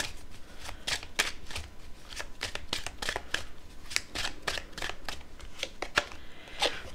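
Tarot cards shuffled by hand, a quick run of crisp riffling flicks and soft slaps repeating at close range, steady and fairly quiet without any speech.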